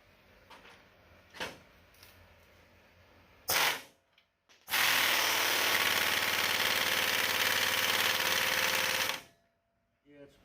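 An Ingersoll 1050 impact wrench removes tight spring perch bolts on a 1959 Willys CJ-5 during teardown. A short burst comes first, then a long, loud, steady run of about four and a half seconds, with faint scattered knocks beforehand.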